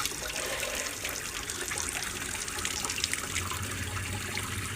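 A small aquarium water pump pushes a strong stream of water, producing steady close splashing and trickling with a faint low hum underneath, continuous and without talk.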